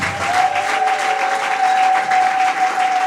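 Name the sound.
church congregation applauding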